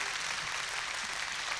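Concert audience applauding steadily throughout, a dense even wash of clapping with no pauses and no voices standing out.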